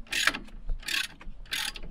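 A brake line fitting is loosened with a wrench during a brake caliper replacement, giving three short metallic ratcheting clicks in an even rhythm, close up and alone.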